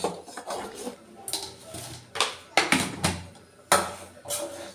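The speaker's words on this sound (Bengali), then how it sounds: "পায়েসটা বারবার একটু নেড়ে নেড়ে দিই" A spoon scrapes and knocks around a pot of payesh, a rice pudding sweetened with sugar, in an irregular series of close clattering strokes with brief pauses between them.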